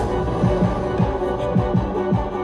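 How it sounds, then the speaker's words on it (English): Layered strings hold a steady chord while a low-frequency oscillator adds a slow, regular wobble pulsing through them about twice a second, giving a throbbing electronic feel. "her strings have low-frequency oscillators"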